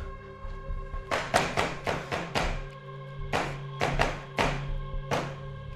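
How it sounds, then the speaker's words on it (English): A metal cooler door bangs repeatedly in an unsettled room, a series of loud hollow thunks coming in uneven clusters over a steady low hum. "one of the metal closed cooler doors is banging"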